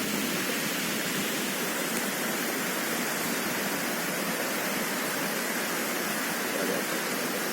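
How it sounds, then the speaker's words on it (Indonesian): Curug Cibereum waterfall flowing from Mount Pangrango, a steady broad roar of falling water filling the air without pause, no voices. "Ada 2 air terjun bro, Jahan."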